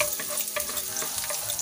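Pechay sautéed with corned beef sizzles steadily in a pan, a close, continuous hiss of frying with light stirring scrapes throughout.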